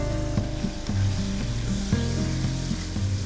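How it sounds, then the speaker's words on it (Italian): Loud, steady sizzling of chicken livers frying in hot sausage oil, with occasional crackles and pops throughout. "a olio caldo dell'olio delle salsicce mettiamo i fegatini"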